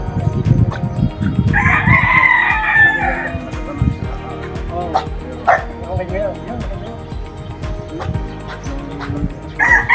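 A rooster gives one drawn-out crow, with a shorter call at the end, amid frequent dog barks and nearby conversation.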